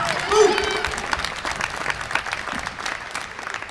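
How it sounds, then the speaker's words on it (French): Convention audience at Toulouse Game Show applauding an interpreter, a steady burst of clapping from a hall crowd that stays fairly even and fades slightly toward the end. "On peut l'applaudir, s'il vous plaît."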